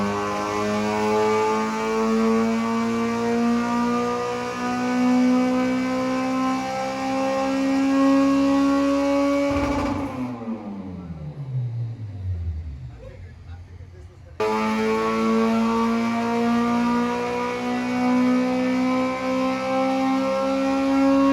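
K-swapped 1992 Honda Civic EG with a K20A2 bottom end revving hard on a dyno toward an 8,500 rpm limit, loud rising engine tone that cuts off and winds down, then resumes at high revs, with talk over it.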